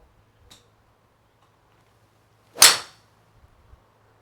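A single sharp, loud crack of a golf ball struck with a 3 wood off the tee outdoors, standing alone after a faint earlier tick, with quiet ambience around it.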